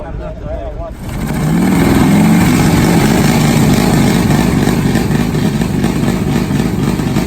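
A top fuel nitro Harley drag motorcycle engine cranks after a second of quieter mechanical sound, then catches and holds a loud, harsh, rapid-firing roar close by.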